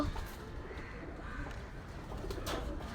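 Soft, low pigeon coos murmur in the background over a quiet ambient hush, faint and intermittent.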